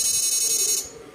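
Electric fish shocker switched to fresh water mode, giving a loud, steady high-pitched electronic buzz that cuts out near the end, leaving a faint hum; no voices.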